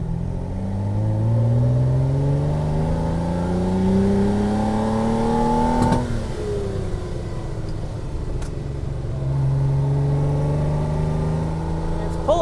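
A Ferrari 330 GT Series II engine revs up and down through the mid-range, rising and falling tones with a faint pop near the middle, close and loud, with a voice speaking over it.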